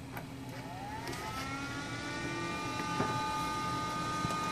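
A noisy gaming PC case fan whirs steadily at close range, a constant airy drone with a faint tonal whine rising and settling, running alone without voices.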